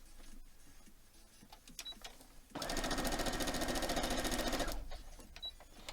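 A sewing machine stitches a foundation paper pieced block in one steady, fast two-second burst of rapid needle clatter, close and clear against a quiet room.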